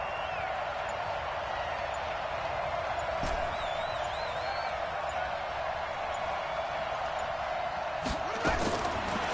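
Stadium crowd noise in a Madden football video game, a steady broad roar building ahead of a big third down, loud and continuous under the game's commentary.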